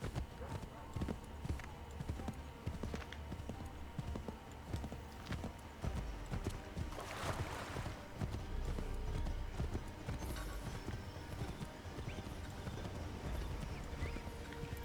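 Horse hooves clip-clopping steadily at a brisk gait while riding in the video game Assassin's Creed III, a continuous rhythmic beat with ambient game sound and occasional talking over it.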